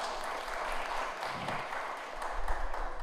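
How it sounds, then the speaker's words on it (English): Audience applause at a live televised event attended by a governor and first lady, a steady broad wash of clapping that holds throughout and swells slightly near the end. "How about a round of applause?"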